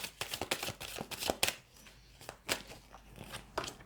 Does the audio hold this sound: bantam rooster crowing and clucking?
no